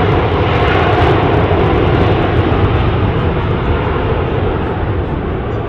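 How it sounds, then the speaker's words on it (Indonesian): A toy airplane makes a steady, loud whirring engine drone that holds evenly without a break from start to finish. "Wih, lihat, ada pesawat terbang teman-teman."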